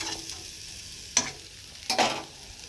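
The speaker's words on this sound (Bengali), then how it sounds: "তখন এগ ফ্রাইটা বানিয়ে রেখে" An egg frying in a pan on a gas stove, a soft steady sizzle with a couple of sharp spatula scrapes or taps against the pan.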